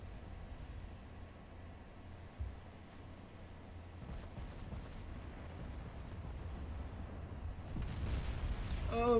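Battleship main guns firing in the naval game Ultimate Admiral Dreadnoughts: distant booming blasts, one sharp thud early on, over a continuous wind-like rumble that swells toward the end.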